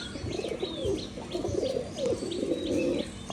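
Colour-matched pigeons on a Rajshahi pigeon farm cooing in low, throaty murmurs, several overlapping nearby, with faint higher chirps from other birds in the background.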